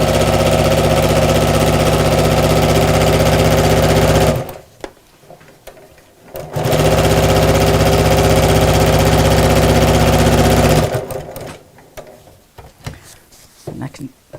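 A sewing machine runs in two loud, steady bursts, whirring and rattling as it stitches a pocket onto a craft bag, with quiet pauses of handling between them; a voice talks over the stitching.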